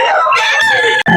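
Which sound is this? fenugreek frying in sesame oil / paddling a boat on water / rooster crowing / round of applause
rooster crowing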